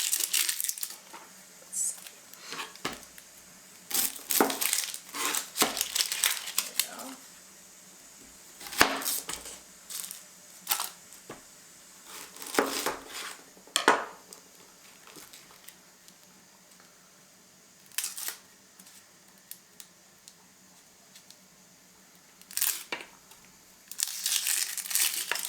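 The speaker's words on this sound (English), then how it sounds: "Now we're going to go ahead and peel an onion." Crinkly papery crackles of an onion's dry skin being peeled by hand in a home kitchen, coming in short bursts with quiet pauses between, close and fairly soft.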